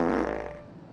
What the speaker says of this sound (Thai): มันก็คือเสียงตด